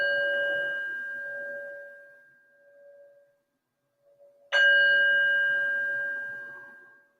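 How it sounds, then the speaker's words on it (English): A meditation bell rung to open a yoga practice: a clear ringing tone that slowly fades into near silence, then a second strike that rings out loud and sustained, decaying gradually with no talk. "I'm going to ring the bell to invite us into our practice."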